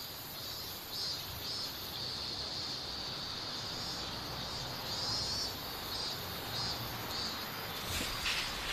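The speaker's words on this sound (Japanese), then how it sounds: "でもセミとかめちゃくちゃうるさいじゃん。" Cicadas drone in summer in a steady, fairly faint high-pitched buzz that swells and fades in gentle pulses over a continuous outdoor hiss.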